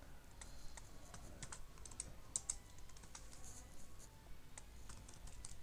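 Fingers tap quickly on a computer keyboard while code is entered, a faint, steady patter of key clicks heard up close with no talking.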